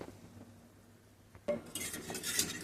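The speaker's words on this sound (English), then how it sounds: "And now I'm just going to put it on and just keep whisking it." Metal whisk stirring a mixture in a pan on the stove, quiet at first, then brisk scraping and clinking strokes growing louder over the last second, close up with no talking.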